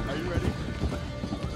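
Horse hooves clip-clopping at a steady gallop in Red Dead Redemption, with a snort or whinny, heard close under continuous talk.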